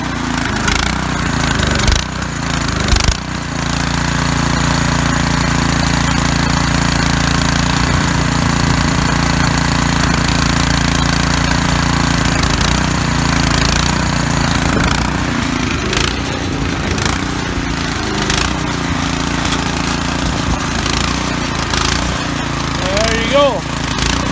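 A free, repaired garden tiller's small engine runs steadily while warming up, a loud continuous mechanical chug throughout with a brief dip near the start, and someone speaks occasionally over it.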